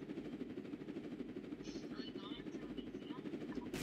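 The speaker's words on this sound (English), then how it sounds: "oh geez, that's a police helicopter" A police helicopter in a video game, its rotor thumping steadily at a distance, with players talking over it.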